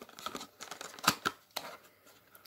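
Packaging for a pair of new Philips ferromagnetic E27-G23 lamp adapters being opened, with scattered tearing and crinkling rustles and one sharp snap near the middle, close and fairly quiet, no talking.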